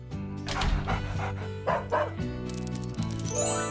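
A dog barks and yips in quick bursts over a musical backing track, loud and close, with a rising whistle-like effect near the end.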